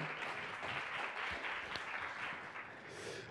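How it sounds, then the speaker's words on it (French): Steady applause from a crowd, fairly soft and continuous, with a few louder claps standing out. "On peut l'applaudir parce que c'est quand même beau."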